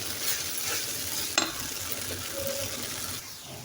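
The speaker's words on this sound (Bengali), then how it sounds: "এটা যে ভাজা ভাজা করবো, হালকা ভাজা, বেশি না।" Beef tehari ingredients stir-fried lightly in mustard oil, a soft continuous sizzle with stirring and one sharp clink of a utensil against the pan partway through.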